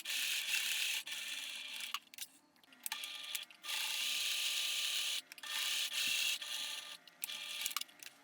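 Sewing machine stitching dress fabric together with its lining at a 1 cm seam allowance, a close, steady high whirring run in several bursts separated by short pauses.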